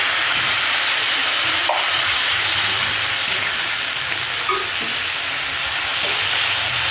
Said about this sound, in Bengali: আমি লাউয়ের খোসাটা ভালো করে ভেজে নেব